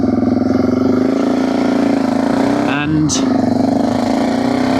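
A BMW 650 GS motorcycle engine with a steady, pulsing idle that dips briefly in a quick blip, close and loud throughout, while someone talks over it.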